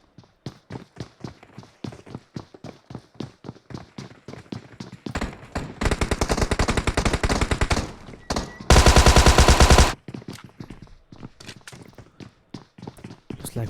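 A Tommy gun fires in PUBG Mobile in rapid bursts of gunshots, a dense sustained stream in the middle and a loud, brighter burst near the end, with scattered shots before and after.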